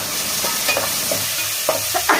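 A Nellore-style bocha fish curry mixture is stirred in a pan after salt goes in, with soft sizzling under repeated scraping strokes of a spoon.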